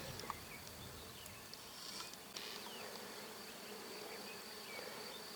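Dense buzzing of many honeybees working flowering catchfly in a meadow nearby, a steady insect hum with occasional louder passes close by, no voices.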